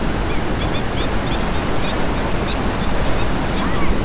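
Water rushes without a break at a hidden check dam with a few gates open, making a loud, broadband roar like surf that fills the whole stretch outdoors.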